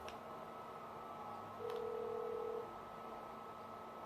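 A mobile phone in the GTA V video game sounds a few faint dialing tones, one short high tone near the start and a sustained steady tone in the middle, over a quiet background hum.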